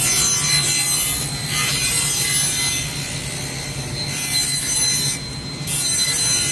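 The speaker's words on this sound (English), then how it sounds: "I'm going to sand the back and the front." Power sanding of a red oak board for a kitchen remodel: a loud, steady, close abrasive whir that runs continuously with a few brief dips in intensity, no talking.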